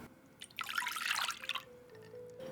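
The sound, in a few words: lukewarm milk being poured into a bowl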